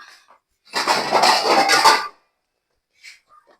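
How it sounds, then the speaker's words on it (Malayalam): A cheenachatti, a metal wok, set down on a stove: one close metallic clatter and scrape lasting over a second, then a couple of faint clinks. "അതിന് ദാണ്ട ചീനച്ചട്ടി വെക്കുന്നു."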